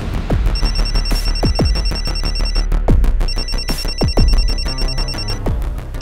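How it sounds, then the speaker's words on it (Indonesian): A mobile phone rings with an incoming call, its bright electronic ringtone repeating in two long bursts over a busy background of sharp percussive knocks, with no speech. "Om Alex nelfon gua"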